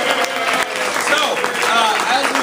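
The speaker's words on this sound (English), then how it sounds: "Round of applause for everybody." Delegates at a meeting break into applause, a loud, steady crowd clapping that fills the whole short stretch with voices cheering underneath.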